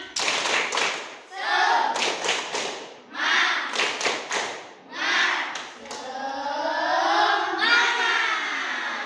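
A school class performs a rhythmic clapping chant, with bursts of group claps and thumps alternating with children's chanting voices, ending in a longer sustained shout from the group.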